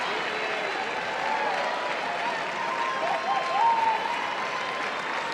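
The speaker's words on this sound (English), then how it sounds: "Oh, the crowd loves Bean. Chanting his name already." Broad, steady applause and cheering from a dog show crowd at the Westminster Best in Show ring for the dog Bean, dense and continuous, with voices mixed into the noise.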